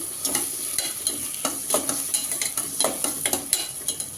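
Onions sautéing in a pot for mushroom biryani sizzle loudly and close, while quick, rhythmic spatula scrapes and stirs sound throughout with no voices.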